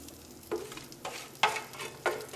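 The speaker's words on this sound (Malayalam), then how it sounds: "ഇതിലേക്ക് നമ്മൾ വഴറ്റി വെച്ചേക്കണം സവോളയും ഇഞ്ചിയും പച്ചമുളകും വേപ്പിൻ്റെ ഇലയും ചേർക്കാം" Onion, ginger, green chilli and curry leaves sizzle in spiced oil for a Kerala fish masala, with about four distinct scraping stirs landing at steady intervals over a low, continuous frying hiss; no voices.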